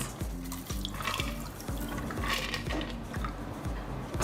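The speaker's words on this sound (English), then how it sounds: "Pour it into a chilled glass." Vodka and Lillet cocktail poured from a shaker into a chilled glass, a close, steady trickling stream of liquid with faint ice clinks, heard alone.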